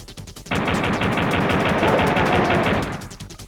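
Gunfire from Duke's pistol in Duke Nukem 64 on the Nintendo 64, a loud continuous rattle of rapid shots lasting over two seconds before trailing off.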